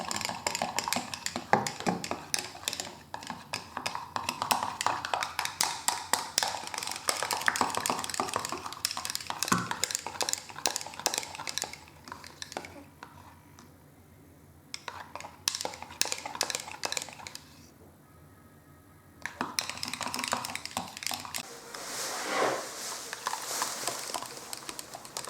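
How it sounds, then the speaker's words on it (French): A spoon stirs homemade moisturizing hair cream for damaged lengths in a bowl, a quick steady run of clinking and scraping taps that goes quiet twice for a few seconds, then resumes. "Et je n'arrête pas en fait de mélanger"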